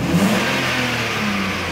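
A BMW E39 523i engine accelerating while driving, a loud, steady mid-pitched engine drone heard close from inside the car, with no talking.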